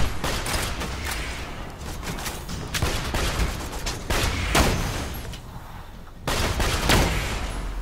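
Sustained gunfire in the video game Borderlands 2, dense bursts and rapid shots filling the whole stretch, loud and continuous with brief sharper cracks.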